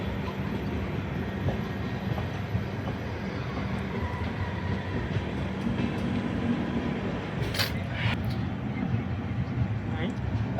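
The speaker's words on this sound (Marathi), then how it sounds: "आता गेली रेल्वे," A train rolls past slowly in the Konkan countryside, heard from a rickshaw as a continuous low rumble with rattling, and a few brief high squeals near the end.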